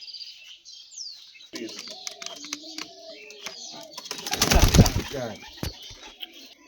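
Pigeons coo close by in soft, low, repeated calls, mixed with sharp clicks and a brief flurry of louder fluttering.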